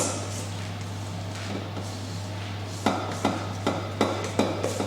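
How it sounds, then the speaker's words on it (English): A spatula scrapes cupcake batter around the edges of a mixer bowl, with a run of sharp, evenly spaced knocks and scrapes standing out near the end over a steady motor hum, with no talking. "So I'm just going to grab my spatula. Scrape, paddle, scrape around these edges."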